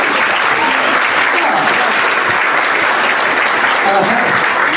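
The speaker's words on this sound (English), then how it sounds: "give yourselves a round of applause" A concert audience at an evening arts event applauds loudly and steadily, with dense, continuous clapping filling the hall throughout and some voices mixed in.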